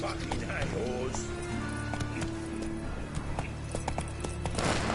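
Roach the horse gallops in a video game, hooves drumming in a quick rhythm beneath steady game music while someone talks over it.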